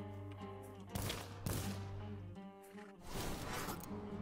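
Gunfire bursts from the video game 12 Is Better Than 6, a few loud shots near 1, 1.5 and 3 seconds over a steady musical backdrop.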